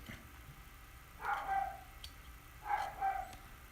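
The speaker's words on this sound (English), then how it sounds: "You might hear my dogs. They're going nuts downstairs." Dogs bark downstairs in a house, two short muffled bursts of barking heard at a distance over a quiet background hum.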